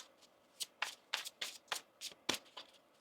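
Tarot cards being shuffled by hand during a reading, a run of about nine crisp riffling bursts in quick, uneven succession, close and fairly quiet with no talking.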